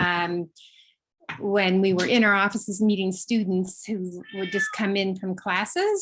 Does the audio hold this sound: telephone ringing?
no